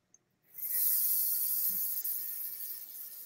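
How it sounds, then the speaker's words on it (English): An airbrush sprays leftover yellow food colouring into a trash can, a steady close hiss that starts after a small click and holds for almost three seconds, fading slightly toward the end. "So I should spray what's left in the trash can just to get rid of it."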